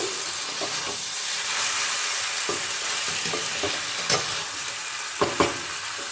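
A pan of salted pui shak and rohu fish head sizzles steadily as it is stirred, the continuous frying hiss broken by a few sharp scrapes and clinks of the spoon against the pan.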